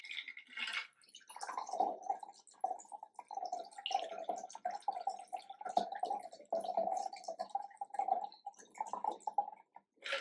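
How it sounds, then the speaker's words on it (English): A cocktail pours from a Hexclad shaker and trickles close by in uneven splashing bursts, with a light clink and rattle at the start. "now to pour the drink"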